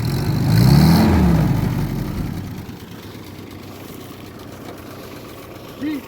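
Engine of a 1940s Willys jeep revving while high centered off road, a loud low roar that swells early then drops to a steady rumbling idle, with a brief voice near the end.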